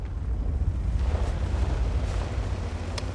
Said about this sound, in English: Here we got the chieftain. We put a nice shot into him.